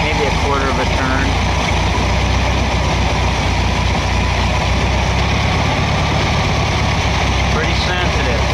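A Volkswagen engine idles steadily while its Solex PICT-3 carburetor is adjusted, a constant low rumble with some mechanical clatter, loud and close throughout.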